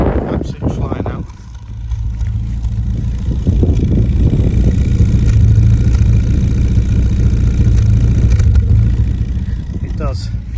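A 1275cc rally-inspired Mini engine revving near the microphone, a loud rough exhaust rising and holding with sharp crackles and pops, briefly dipping near the start and ending in a last burst.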